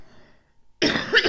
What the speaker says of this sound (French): si je tousse comme ça